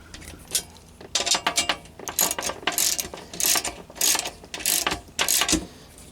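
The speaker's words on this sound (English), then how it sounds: "let's go ahead and get our ratchet on here. Tighten up this hardware." A hand ratchet tightens bolts and nuts on a skid plate under a Toyota Sequoia, making close, rapid clicking bursts in repeated strokes with short pauses between them.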